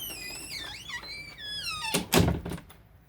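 A bedroom door swings closed with a creaking squeak of its hinges followed by a solid thunk as it shuts, close and clear with no talking.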